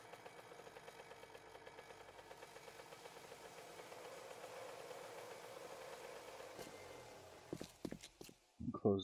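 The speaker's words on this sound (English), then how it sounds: "let's grab our bike and get on the road" Motorbike engine in 7 Days to Die, a quiet rhythmic chugging putter that builds slightly in intensity, followed by a few sharp clunks near the end.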